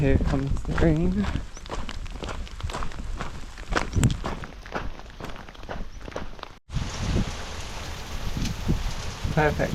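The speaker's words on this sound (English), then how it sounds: "And here comes the rain." Rain growing heavier during a walk on an exposed coastal path out toward a headland, steady patter and hiss behind close crunching footsteps and rustling clothing, with a brief dropout partway through.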